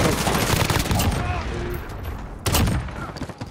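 Rapid bursts of gunfire in a team deathmatch shooter game, repeated fusillades that fade and then flare again with a loud volley near the end.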